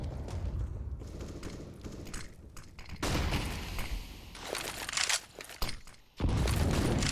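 Grenades and molotovs going off in a competitive shooter match, with bursts of gunfire and heavy thuds and booms that surge and drop in loud uneven waves.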